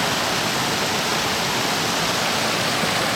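A small double waterfall by a natural rock bridge on the Tuolumne River in Yosemite pours with a constant, dense roar, close and unbroken throughout, with no voices.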